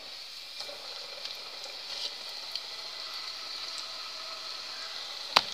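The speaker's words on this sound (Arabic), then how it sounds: "الزيت راه سخن كتفندوها يعني بحال اللي كتفندو الحوت في الطحين ها هي في الزيت" Flour-dredged chicken breast frying in hot oil for homemade fried chicken, a steady close sizzle with faint crackles and one sharp pop near the end, no talking.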